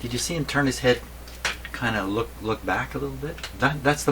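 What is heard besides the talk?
No distinct noise like a dog, phone or traffic.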